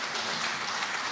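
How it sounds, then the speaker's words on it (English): Steady, fairly quiet applause from an audience at a district attorney candidates' debate, a continuous wash of many hands clapping together over a short moment with no voices. "Let's give a round of applause to both our candidates."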